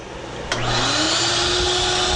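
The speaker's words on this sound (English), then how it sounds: "take this belt sander, turn on the shop vac to it" A shop vacuum hooked to a belt sander switches on with a sharp click, then its motor whines up in pitch and settles into a loud, steady roar.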